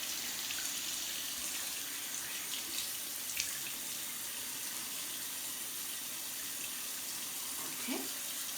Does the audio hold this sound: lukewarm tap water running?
yes